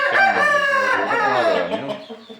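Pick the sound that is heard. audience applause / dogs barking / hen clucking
hen clucking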